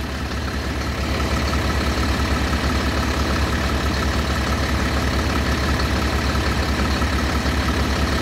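A bus engine runs with a steady low throbbing rumble that rises slightly after the first second as the throttle is opened gently, loud and close without voices.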